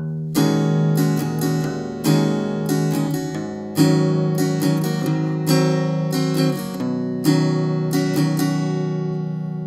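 An electric guitar plays a section of a song, with strummed chords and single notes in a repeating pattern, loud and close, with no talking.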